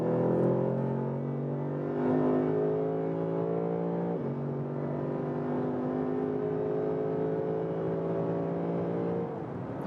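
A Lexus RC F with a 5.0-litre V8 pulls hard from 100 to 200 km/h, its engine note climbing steadily with two brief dips at gear changes, smooth and somewhat muted as from inside the car.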